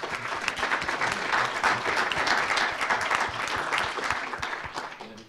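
Audience applause at a professional round table on urban art, dense steady clapping from a roomful of people that carries on for several seconds before fading.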